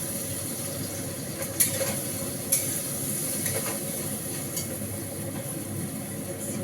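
Ground spice paste with ginger frying in a pan, a steady close sizzle broken by a few sharp scraping clicks as it is stirred.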